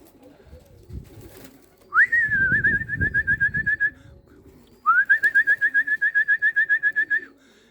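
Racing pigeons, young birds among them, in a backyard loft as several circle overhead: two long bursts of rapid, even-pulsed whistling wing or call trills ring out clearly over a low rumbling background.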